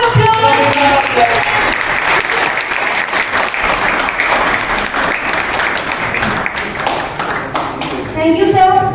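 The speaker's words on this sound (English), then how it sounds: "Give a big round of applause." An audience at an engineering college fest claps loudly and continuously, with dense applause throughout and a few voices and cheers rising near the end.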